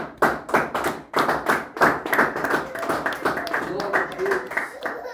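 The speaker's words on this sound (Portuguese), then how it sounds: "Então bate as palmas para Jesus." A church congregation claps their hands in a brisk, steady rhythm, loud and close, with voices rising over the clapping.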